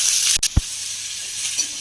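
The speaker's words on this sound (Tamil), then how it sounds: "பண்ணியிருக்க வெங்காயத்தை ஆட் பண்ணுறேன்." Chopped onion dropped into hot oil with black pepper gives a steady, close sizzle and hiss, broken briefly by a soft thump, with no talking.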